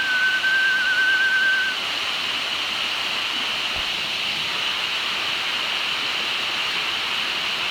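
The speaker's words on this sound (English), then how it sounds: "Full on river." A shallow river flows steadily along the Appalachian Trail, a constant broad rush of water close by, with a brief high whistle-like tone in the first seconds and no talking.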